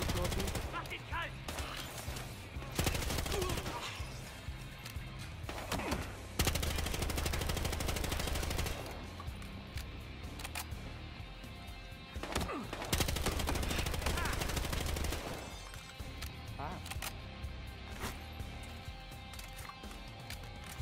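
Gunfire in Battlefield Hardline: loud, sustained automatic bursts alternating with shorter volleys and pauses, up close in the middle of a firefight, a game music bed underneath.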